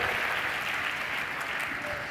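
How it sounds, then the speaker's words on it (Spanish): A church congregation applauding during a sermon, dense steady clapping that fills the room evenly, continuous and moderately loud from start to finish. "Dele un aplauso a aquel que nos enseña, que nos defiende."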